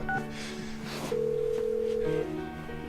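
A telephone tone sounds in the video game Persona 4 Golden, a steady electronic ring that holds for about a second amid faint background noise.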